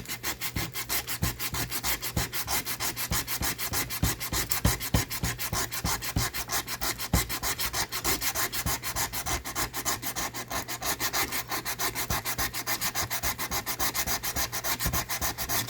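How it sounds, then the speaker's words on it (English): Hand sanding of a wooden revolver grip with sandpaper, a steady close rapid back-and-forth rasping that runs without pause throughout, with no talking. "If I had a file, I could remove it faster, but I just have this sandpaper here."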